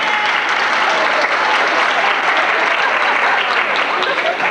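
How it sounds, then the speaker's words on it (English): A high school choral concert audience at a 1988 anniversary event bursts into loud, dense applause and cheering that holds steady and close for the whole stretch. "Would you cheer loudly?"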